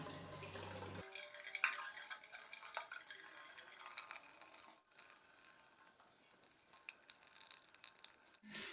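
Water running steadily into a toilet cistern being installed by a plumber, a continuous soft hiss and trickle with faint drips, quiet and alone throughout.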